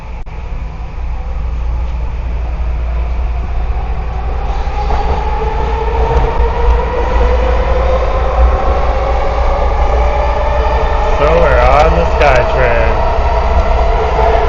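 Vancouver SkyTrain subway car running underground, a loud, steady rumble and rail roar that builds and rises in pitch as the train speeds up, with a brief screech of wheels near the end and faint voices.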